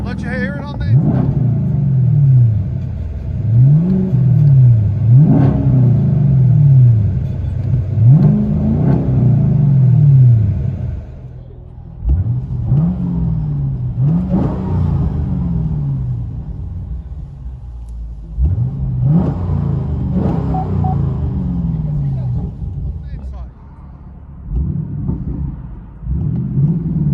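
Chevy Camaro SS with a 6.2-liter V8 and aftermarket exhaust, heard from inside the cabin: repeated loud revs rising and falling in rhythmic bursts, with a deep, booming drone between them.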